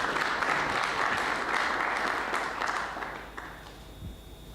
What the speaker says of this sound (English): If you can give all of them a big round of applause.